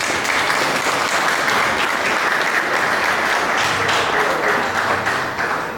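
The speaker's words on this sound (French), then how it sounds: "j'aimerais qu'on applaudisse très fort" Sustained, loud applause from a crowd at an awards evening, thick continuous clapping holding steady throughout before easing slightly at the very end, with no speech over it.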